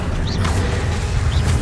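Accio pulling spell cast in the video game Hogwarts Legacy, a steady, loud mechanical whooshing with two short rising swish accents, dense and continuous throughout.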